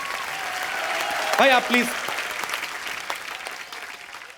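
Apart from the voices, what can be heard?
studio audience applause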